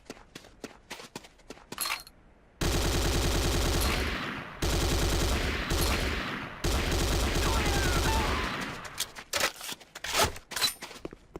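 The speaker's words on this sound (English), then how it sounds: "The next weapon is the Corbretti AR-70 Raptor automatic rifle." A Corbretti AR-70 Raptor automatic rifle fires in Command & Conquer: Renegade, with three long, loud sustained bursts of rapid automatic fire broken by short pauses, framed by footsteps and scattered shots at the start and end.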